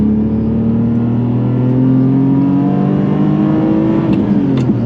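A Ferrari 550 Maranello's 500-horsepower V12, in a roll-caged car on a mountain road, drones loud and steady from inside the cabin, its pitch climbing slightly as it pulls harder near the end.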